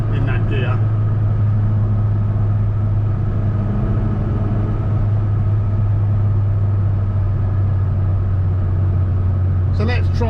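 A Mini Cooper S Sport 5 cruising at 70 mph around 3,100 rpm gives a steady, loud engine drone and road rumble, with a low constant hum and no change in pace.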